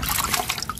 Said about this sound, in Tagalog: Yan, diligan na natin.